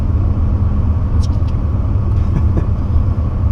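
Two short bursts of hissing air from a Ford GT's hydraulic air lift system dropping cut through a steady low vehicle rumble, quick and close.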